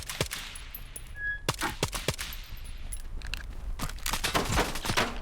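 Headshot crunch sounds in a shooter video game: sharp, punchy impacts scattered through gunfire, a few bursts in the first two seconds and a rapid cluster near the end, all close and loud.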